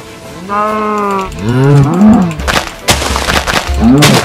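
Cows moo in the Minecraft video game, one long low moo followed by several more, loud and close, mixed with game effects and brief talk.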